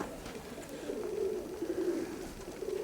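Low, soft cooing of Mykolaiv pigeons rises and falls steadily, a continuous murmur close by with no voices.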